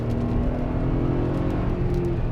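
2022 Toyota Tundra pickup in sport mode pulling hard, a steady, loud engine drone with a rising tone heard from inside the cab, no talking.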